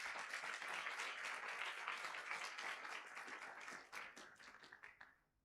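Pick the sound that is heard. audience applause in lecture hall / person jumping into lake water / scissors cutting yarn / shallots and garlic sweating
audience applause in lecture hall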